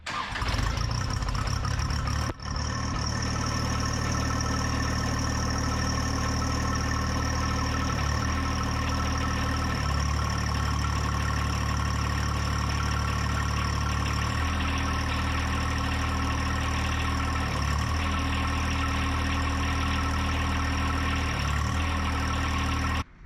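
John Deere compact tractor (1025R/1023E/1026R class) with a front quick hitch and hydraulic angling kit, its diesel engine running steadily and close by after starting, with a sharp transient at the start and a few faint load changes.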